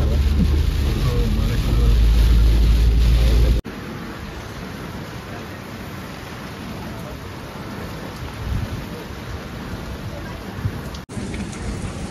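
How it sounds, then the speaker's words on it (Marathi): Heavy monsoon rain pours in Sindhudurg, a loud, steady downpour with a deep rumbling low end through the first few seconds, then continuing as dense, even hiss until the end, with no talk. "महाभयंकर पाऊस आहे इथे, महाभयंकर पाऊस"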